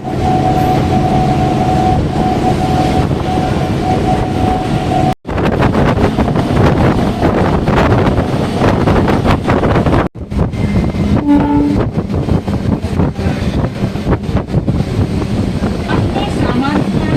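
A Chennai local commuter train on the Beach to Chengalpattu line rolls along with loud, continuous rumbling, clattering wheels and wind rush from close inside the carriage, with brief dropouts in between.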